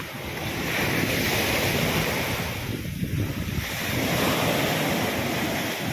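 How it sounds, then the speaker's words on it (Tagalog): Brown, stormy sea waves crash and wash continuously against the shore after heavy rain, with a brief lull midway, mixed with gusty wind buffeting the microphone. "ang ganda pagkinggan ng hampas ng dagat"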